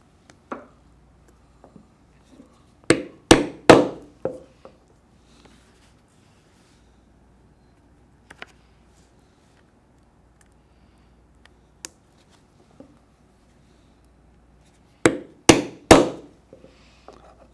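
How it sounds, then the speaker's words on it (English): Decorative rapid rivets are set on leather gauntlets with sharp hammer strikes in quick clusters of three to four blows, separated by long quiet gaps with occasional single taps. "for decorative purposes, we can add some rapid rivets, as you can see"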